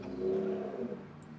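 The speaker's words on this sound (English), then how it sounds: "As like loud cars go by." Loud cars pass by outside as a steady engine drone that swells and slowly fades.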